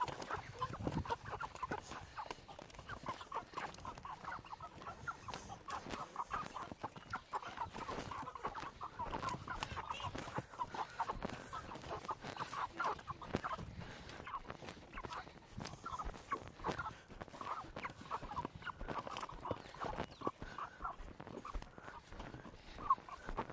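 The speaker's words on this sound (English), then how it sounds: "I hate chickens even more now." Chickens and turkeys clucking and squawking inside a hoop structure, a busy, continuous flock chatter with overlapping calls throughout, fairly close, with no talking.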